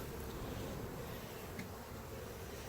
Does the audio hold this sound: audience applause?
no